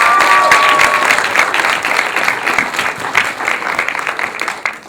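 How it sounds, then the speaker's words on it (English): A crowd at a Texas Chainsaw Massacre screening during Texas Frightmare Weekend applauds loudly, a dense burst of clapping that slowly thins over about five seconds. "let's have a big round of applause for Texas Frightmare Weekend for bringing these guys in."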